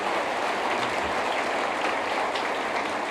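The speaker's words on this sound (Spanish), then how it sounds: "Dele un aplauso a Jesucristo" Congregation applauding during a Spanish-language church sermon, a steady dense patter of many hands clapping together for about three seconds, with no talk over it.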